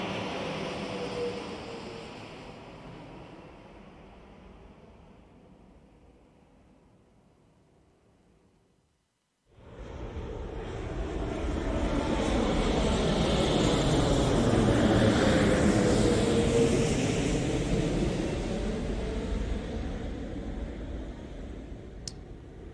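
A recorded airplane sound played back in mono through a single microphone, a steady broadband roar that fades down, cuts out briefly, then returns loud and sustained.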